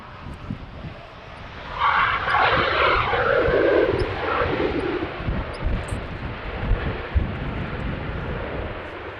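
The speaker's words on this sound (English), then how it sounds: "let's forgo the 737 now landing in front of me and just see the Super coming closer" A Boeing 747 jumbo jet roars in on approach to land on runway 27 at Amsterdam Schiphol on a windy day, its engine noise swelling then slowly fading under gusty wind buffeting.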